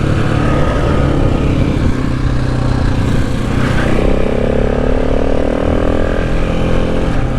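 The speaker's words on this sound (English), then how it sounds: "Hit the rev limiter there." A motorcycle on a Cape York, Australia ride held hard against its rev limiter, a loud, steady, buzzing engine roar close by that stays pinned throughout with slight rises in pitch.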